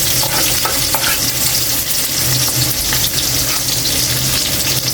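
Onions frying in a pan for Bicol Express, a steady loud sizzle with scraping stir strokes running throughout, no voices.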